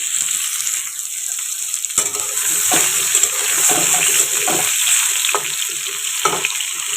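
Pointed gourd frying in hot oil in a pan with nigella seeds sprinkled over it: a steady, close sizzle with occasional clinks of stirring and short bursts of louder spitting.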